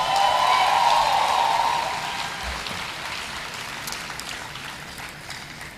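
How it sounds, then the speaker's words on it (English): An audience of entrepreneurs applauding at a winners announcement event, a dense wash of clapping that starts full and gradually thins and fades, heard from within the crowd with no talk. "Clap for yourselves."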